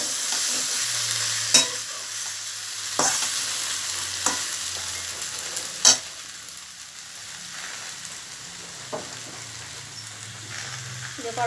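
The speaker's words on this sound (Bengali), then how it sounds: "ডালের বড়ি ভাজা হবে শুক্তোতে দেওয়ার জন্য।" Lentil dumplings (bori) fry in a kadai, giving a steady close sizzle with scattered louder crackles and stirring scrapes throughout, no talk over it.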